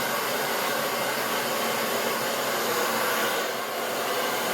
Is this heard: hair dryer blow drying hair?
yes